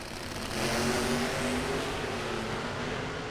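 NHRA Pro Mod drag race cars roar down the strip at Gainesville, a loud, sustained engine blast heard from a distance with a steady droning tone.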